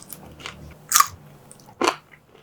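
Two crisp crunches of crispy fried sweet potato (kamote) fries being bitten, close and sharp, spaced about a second apart over quiet background.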